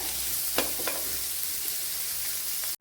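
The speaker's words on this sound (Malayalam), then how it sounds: "വലിയ ഒരു രണ്ട് സവാള ഇതൊന്ന് വഴറ്റി കൊടുക്കാം" Two large onions sautéing in a pan, a steady soft sizzle with a couple of brief stirring scrapes early on and a sharp clatter right at the end.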